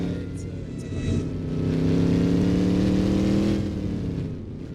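A loud car engine idling and revving at an outdoor car meet, a deep rumbling drone that swells up and then eases off, close by and dominating the scene.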